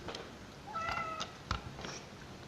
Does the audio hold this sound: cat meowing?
yes